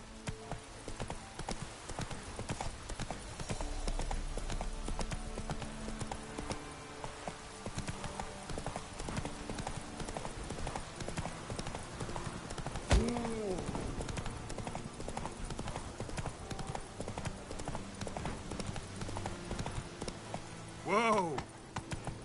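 Horse hooves trotting in the video game Witcher 3, a steady clip-clop rhythm throughout, with game music and effects around it and a whinny-like sweep near the end.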